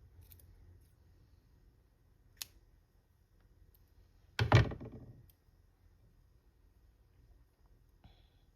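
Scissors cut a torn precut glass butterfly wing kit piece, giving a single close snip with a short ringing tail amid quiet, plus a few faint ticks and clicks before and after.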